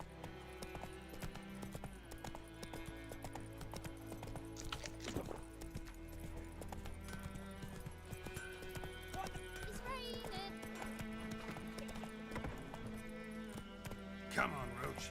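A horse galloping in the video game Witcher 3: Wild Hunt, with steady clip-clop hoofbeats, brief whinnies and game music underneath, while someone talks over it.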